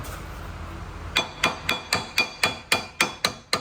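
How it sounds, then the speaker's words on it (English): A hammer taps a metal brake caliper on a 2004 Toyota Camry nine times in a steady rhythm after a second of quiet, each strike bright and ringing, close by. "tap it with a hammer"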